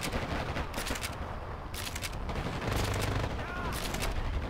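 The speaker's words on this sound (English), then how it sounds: "Turret sounds like he's still doing work." Automated turret fire in the shooter Dirty Bomb, a steady, loud stream of rapid shots blending with other gunfire in a busy battle, surging in bursts throughout.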